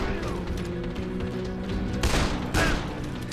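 Gunfire in the zombie video game Dead Island, a steady rattle of shots with a few heavier bursts near the end, under a dense layer of game effects.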